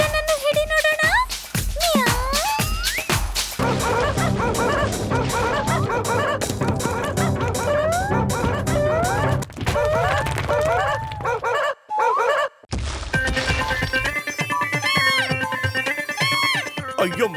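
Cartoon dog barking and yipping in a Motu Patlu animated episode, loud repeated barks and yelps over a busy music score, with a brief dropout near the end before the music resumes.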